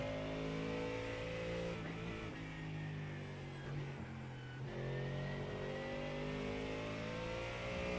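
A rear-wheel-drive GT3 race car with a big, heavy front-mounted engine in iRacing revs steadily, its engine note rising through gears with a short dip midway, continuous and fairly close.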